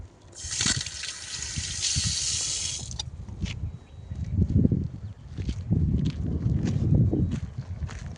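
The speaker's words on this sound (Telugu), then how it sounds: "ఇక్కడ కూడా వస్తున్నాయి వాటర్." Water runs from a tap on a single-track railway station platform, a bright hissing gush for a few seconds, then quieter splashing with faint footsteps nearby.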